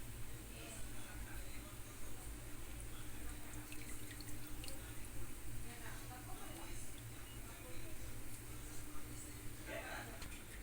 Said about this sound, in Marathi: सगळं असं पाणी काढून घ्यायचं बघा सगळ्या वड्याचं